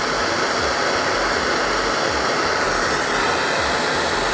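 A Nortel Mega Minor glassworking torch burns close by as its narrow flame heats a glass tube, a loud, steady, unbroken roaring hiss.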